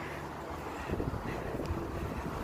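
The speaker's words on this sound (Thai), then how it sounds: "ลมนิดหน่อย" A light wind blows outdoors in London beside a cable car line, a faint, steady rushing hiss with mild buffeting that swells slightly midway, and no voices.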